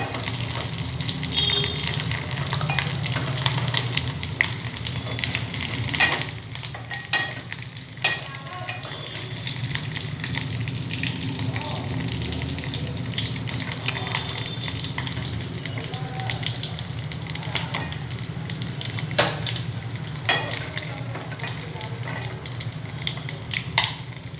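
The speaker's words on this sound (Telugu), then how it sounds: "ఇప్పుడు దీన్ని చిన్నగా ఫ్రై చేసుకుని నూనెలో తీసేయాలి" Soaked, softened pieces frying in hot oil give a steady, close sizzle with a bubbling crackle throughout, broken by occasional sharper pops and clicks of stirring.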